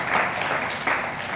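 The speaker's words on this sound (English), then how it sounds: "Another round of applause for your candidates" Audience applause at a university student union election debate for the VP Sport candidates, a steady wash of clapping held for over a second with a brief swell near the end.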